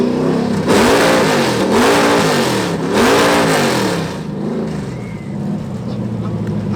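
A muscle car called the Beast revs its exhaust hard at an exhaust competition, loud, close, rising and falling in repeated surges over about four seconds before settling into a rough idle rumble.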